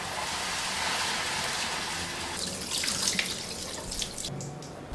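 Tap water runs steadily into a sink while rice, with moong dal roasted before, is washed, a close, continuous hiss with some splashing toward the end.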